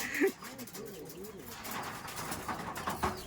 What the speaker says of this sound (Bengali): দেখুন পায়রা ছাড়া হচ্ছে আমি বাইরে চলে এসেছি আর পায়রা এখান দিয়ে ছাড়া হচ্ছে